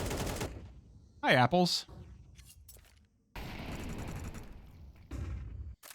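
AK rifle gunfire in a Counter-Strike esports match on the Ancient map: sharp bursts of shots rattle out in the second half, mixed with game effects while a commentator talks over them.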